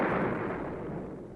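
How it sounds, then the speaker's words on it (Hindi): Cannon fire in an animated history lesson about the 1857 siege of Jhansi: one loud, close boom that rolls out into a long, fading rumble. "सवेरा होते ही झांसी की तोपें फिर गरजने लगी।"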